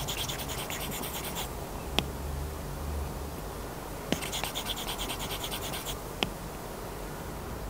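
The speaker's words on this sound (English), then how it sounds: "So when using any Apple Pencil on any iPad, it will feel a lot more like drawing or writing on real paper." An Apple Pencil scratches across an iPad fitted with a paper-like screen protector, making two bursts of fine, dry scribbling with light taps between strokes, close and clear over faint background hiss.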